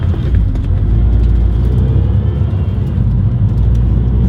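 A Mazda Miata with a 2.5 engine driving under its own power, a loud, steady low engine rumble heard close from inside the car, constant throughout.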